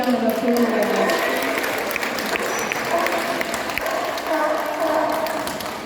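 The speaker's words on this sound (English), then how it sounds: "Give Louis a big round of applause." An audience claps at a safari park show about seals and sea lions, producing a dense, steady wash of applause. Voices can be heard talking underneath.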